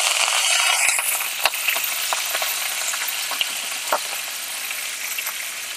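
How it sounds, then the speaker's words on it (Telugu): Dal frying in a pan for a ridge gourd tempered curry, with curry leaves and coriander in the tempering: a loud, steady close sizzle scattered with sharp crackles and pops, no voices. "మంచి ఫ్రై అయింది పప్పు"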